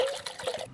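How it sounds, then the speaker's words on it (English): TruFuel small-engine fuel poured into a glass jar, a short, close trickling splash of liquid that stops abruptly near the end. "What I want to do here is pour a bit into a jar just to show you the actual color of this fuel."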